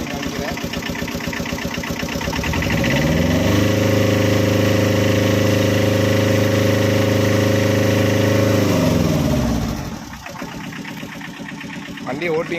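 A Tata Ace HT mini truck engine idles, then revs up hard and holds a loud steady roar for several seconds before dropping back to idle, close by.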